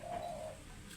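A spotted dove kept as a decoy bird gives a soft, close coo, a single drawn-out note that fades within a second against a quiet background.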